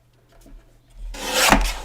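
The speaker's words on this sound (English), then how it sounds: "I'm gonna trim off the edge there." Paper card edge being trimmed: a short, close scraping rasp of the blade through paper building up over about a second after quiet handling noise, loud and dry.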